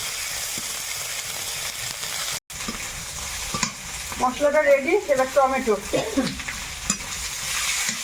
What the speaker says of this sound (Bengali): মশলাটা একটু নেড়ে চেড়ে ভেজে নেবে